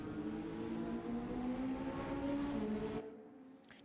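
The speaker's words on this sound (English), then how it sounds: "You're on board there with Cambridge in the white Porsche." A white Porsche GT4 in a sim racing game gives a steady, moderately loud engine drone with harmonic tones gliding up and down under acceleration, then cuts off abruptly near the end.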